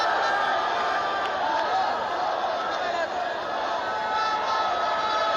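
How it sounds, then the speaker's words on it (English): Dense, loud crowd roar fills a cricket stadium during a Pakistan vs England T20 match, a continuous wash of many voices, cheering and chatter, steady throughout with slight swells and no clear individual speech. "Got to quieten this crowd down."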